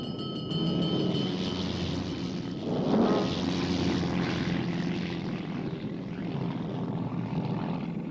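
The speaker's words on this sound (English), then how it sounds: "Enemy reconnaissance plane." An enemy reconnaissance propeller plane drones over a ship at sea, a steady engine hum that swells briefly as it passes overhead, then continues at a moderate distance without any speech.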